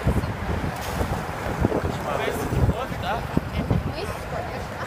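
Strong wind gusting across a cold city street near Bryant Park in New York, roaring and buffeting the microphone steadily with uneven surges, no voices over it.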